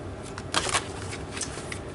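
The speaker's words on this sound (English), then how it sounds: "I'll just shuffle like this to make it easier." Tarot cards are shuffled by hand, a short crisp riffle and soft papery slide close by, lasting under two seconds with no voices.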